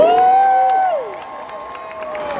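Spectators at a jousting tournament between Canadian and American knights cheer and clap for a rider, loud at first with a sustained whoop, then fading quickly to a softer, scattered crowd noise.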